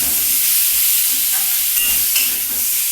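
Pumpkin pieces fry in a pan with a loud, steady, close sizzle and hiss. A few soft clinks from stirring sit on top, and no one speaks.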